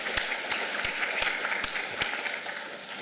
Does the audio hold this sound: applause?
yes